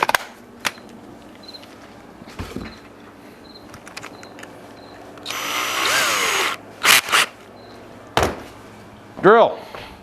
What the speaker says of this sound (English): Let me get my freaking drill.